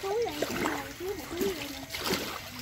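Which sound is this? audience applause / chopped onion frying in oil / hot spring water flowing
hot spring water flowing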